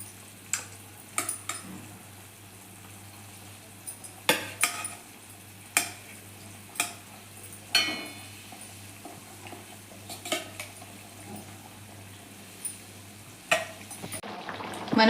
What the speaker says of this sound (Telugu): ఇప్పుడు చేప ముక్కలు వేసుకుందాం.